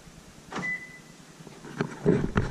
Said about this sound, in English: you just touch that and the truck locks